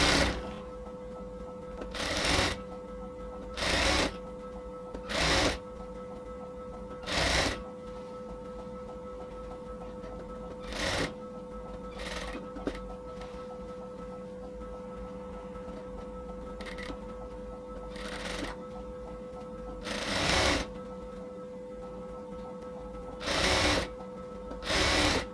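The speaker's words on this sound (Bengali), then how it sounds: "আমরা এখানে একটা প্রথমে চাপ সেলাই দিয়ে নিব" A sewing machine runs steadily for a long stretch, stitching a zipper into the inner fabric along a dress neckline, with short louder bursts recurring every few seconds over a constant whirring hum.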